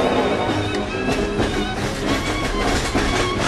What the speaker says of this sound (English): Leaving the Budapest train station.